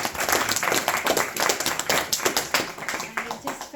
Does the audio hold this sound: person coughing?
no